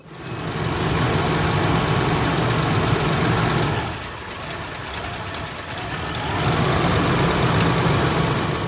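A Toyota FJ80 Land Cruiser's 3FE engine idles with a steady low rumble, dipping briefly in the middle while faint clicks come through as vacuum is applied to the EGR system, then settling back to its even drone.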